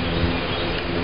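Honeybees buzz steadily around an open swarm hive during an inspection, a dense continuous hum close by with no talk.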